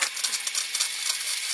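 Air hissing and sputtering out of an under-sink water purifier as its valve is opened to flush a newly changed sediment filter, a steady, close, bright hiss that stays continuous for the whole stretch.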